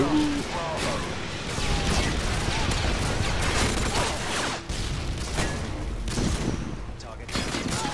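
Rapid gunfire and explosive bursts in Call of Duty: Modern Warfare 2 multiplayer, sustained and dense throughout with brief lulls, while a player talks over the action.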